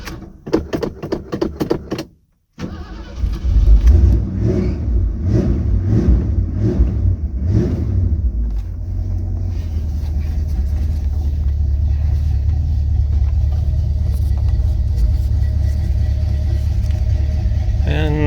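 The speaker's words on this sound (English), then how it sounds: "for those that haven't heard this car, she is a 302 running" A 1968 Ford Galaxie 500 with a 302 V8 idles in a steady, loud low rumble after a brief start-up burst and a short gap, with a few revving pulses settling into an even drone.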